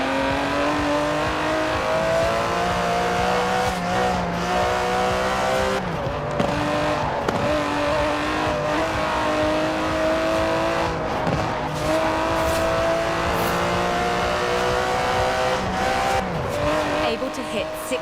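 The 5.2-litre twin-turbo V12 of an Aston Martin DB11 in the racing game Forza Horizon 4 drones steadily and loud. Its revs shift up and down, with occasional tyre squeal.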